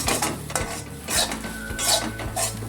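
A metal spoon stirs a potato mixture with turmeric and Kashmiri chilli powder for potato cutlets, producing close clanks and scrapes against the pan in several distinct strokes, with no voices.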